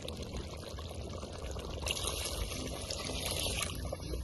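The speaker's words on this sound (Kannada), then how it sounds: "ಸ್ವಲ್ಪ ನಮ್ಗೆ ಗ್ರೇವಿ ಎಷ್ಟು ಬೇಕಷ್ಟು ನೀರು ಹಾಕ್ಕೊತೀನಿ ನೋಡ್ರಿ" Water is poured from a glass into simmering chicken gravy in a cooking pot, a steady splashing pour that grows louder about halfway through and runs on continuously.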